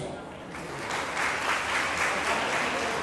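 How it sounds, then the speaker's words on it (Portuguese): An audience at a civic ceremony in Cajazeiras honouring local women breaks into applause after a near-silent moment. The clapping swells and holds as a dense, steady round. "Salve de palmas."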